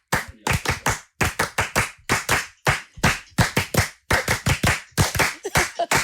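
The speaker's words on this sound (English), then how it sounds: "I think we should do the clap." Family members clap their hands together in quick, close bursts of several sharp claps each, separated by short pauses, loud and near, with no talking.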